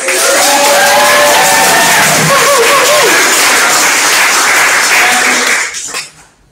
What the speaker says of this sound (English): Can I request a round of applause for Ruby and Hayley for MCing?